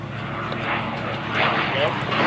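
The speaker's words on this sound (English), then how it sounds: "McKenna with the P-51" P-51 Mustang propeller plane flying at the Geneseo airshow, a loud sustained engine drone rising and swelling slightly, with an announcer talking over it.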